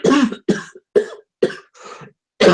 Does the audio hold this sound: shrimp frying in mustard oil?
no